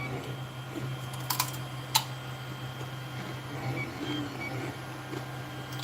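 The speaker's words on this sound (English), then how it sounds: "watching a bit of 3D printer doing a dance" 3D printer running in a shed, a steady low mechanical hum with soft ticking and a few sharp clicks from the moving print head, no talking.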